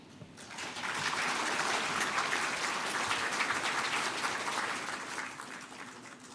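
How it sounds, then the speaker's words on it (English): Audience applause at a formal state welcome ceremony, a dense wash of many hands clapping that swells in after a moment, holds steady and full, then eases slightly toward the end. "let's once again extend our warmest applause"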